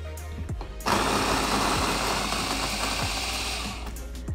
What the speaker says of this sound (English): If you're going to grind your coffee, you just need to purge your grinder.